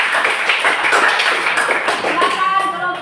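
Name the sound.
audience clapping hands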